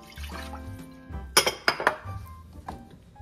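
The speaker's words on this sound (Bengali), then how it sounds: "জল দিয়ে এই জলটাই এখানে দিয়ে দেবো" Water is poured into a pot of khichuri on the stove, with a few sharp clinks and knocks of a metal pot and utensil rising over a quiet sloshing.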